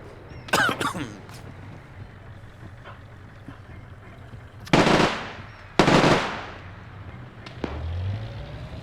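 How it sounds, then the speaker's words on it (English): Bursts of gunfire from a Bren gun in a WW2 video game: a quick early volley followed by two loud, sharp blasts with ringing tails, heard close over a low ambient background. "Flux blows him away with the Bren."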